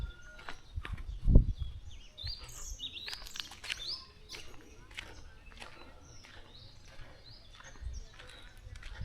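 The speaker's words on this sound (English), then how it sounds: "So many birds here." Many birds chirping around an African village market, a busy scatter of short high tweets and calls at moderate distance, with a few footsteps and thumps and a brief low bump beneath.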